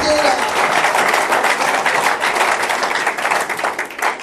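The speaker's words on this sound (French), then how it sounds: "Acclamez très fort le Seigneur." A church congregation applauding loudly at a gospel service: a dense, steady wash of many hands clapping that fills the space for several seconds without a break.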